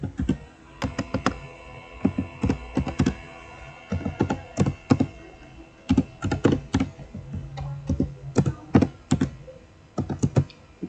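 Someone types on a computer keyboard nearby in irregular bursts of quick clicks and thunks separated by short pauses, with no talking.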